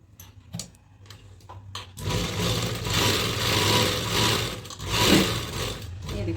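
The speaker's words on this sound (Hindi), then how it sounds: "मैं आपको सिलाई लगा के दिखाती" Sewing machine stitching a salwar at home, a few faint clicks and handling sounds first, then a steady whirring, rattling run of the machine at close range.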